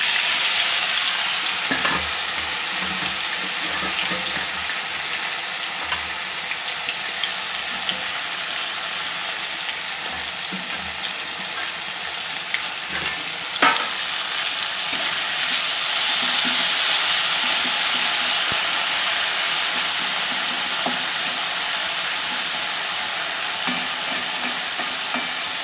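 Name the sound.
potatoes frying in oil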